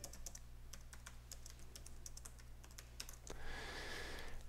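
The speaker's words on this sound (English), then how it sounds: "If I can learn to type." Quick typing on a computer keyboard at a desk, a string of crisp, fairly loud key taps in an uneven rhythm with a short pause, over a steady background hum that swells slightly toward the end.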